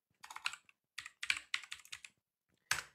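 Bursts of typing on a computer keyboard while entering a command at a command prompt, several quick clusters of close, crisp keystrokes with short pauses between, alone with no talk.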